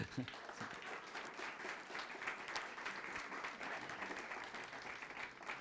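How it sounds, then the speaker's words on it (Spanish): A church congregation applauds in a steady, continuous round of clapping that fills the room, heard fairly faint with some speech mixed in. "Dele un aplauso a Dios."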